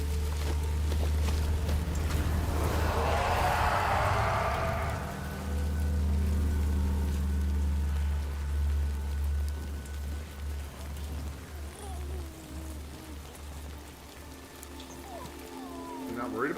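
Rain falls in the video game Death Stranding 2, a dense hiss of rain that swells loudly in the first few seconds and then settles into a softer, steady patter over a low rumbling background.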